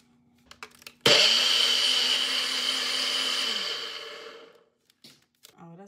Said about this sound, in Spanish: Ok, pues voy a moler todo esto